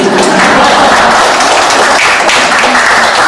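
The audience at a parliamentary debate forum on school speech-language therapists claps in loud, continuous applause, a thick, even roar of many hands close by with no pause.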